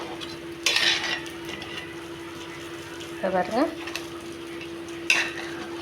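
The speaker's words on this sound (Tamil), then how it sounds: "போட்டு நல்லா கிண்டி விட்டுக்கலாம்." Crab gravy gets stirred in a pan with a spoon, giving a few short scraping and sizzling strokes close by, spaced apart, while someone talks briefly.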